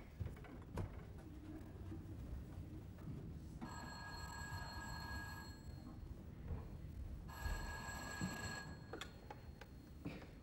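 An old telephone bell rings in a stage play, two bright sustained rings separated by a pause, fairly clear over a quiet room with faint background noise.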